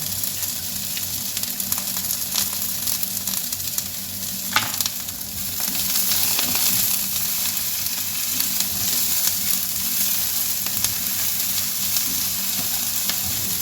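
Food sizzles steadily in a hot pan, a constant crackling fry with occasional louder pops and stirring, no voices.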